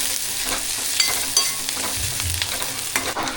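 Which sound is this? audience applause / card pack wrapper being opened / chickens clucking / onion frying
onion frying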